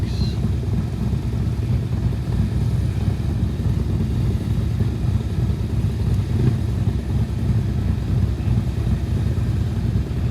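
Several motorcycles rumble in together for a day ride, a steady, dense low engine drone that holds loud and unbroken throughout, with no talk over it.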